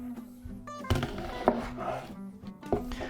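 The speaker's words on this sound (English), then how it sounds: "the hard part is cutting the onions and hopefully not crying too much" A knife chops a yellow onion on a cutting board in a series of sharp, uneven knocks spread across a few seconds, close and fairly clear, with a voice faintly present in the background.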